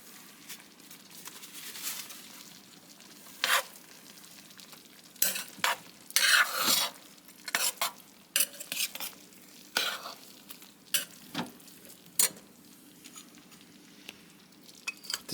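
Beef and black bean chili with McCormick chili seasoning being stirred in a crockpot: a spoon scrapes and sloshes through the thick mixture in repeated short, close strokes, with quiet pauses between them.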